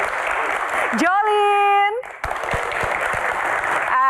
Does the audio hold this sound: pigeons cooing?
no